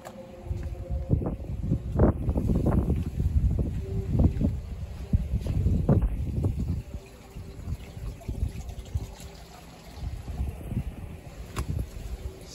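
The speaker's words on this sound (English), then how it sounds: "It's so windy today." Gusty wind among outdoor dragon fruit plants buffets the microphone with low rumbling bursts, strongest in the first half and easing off later.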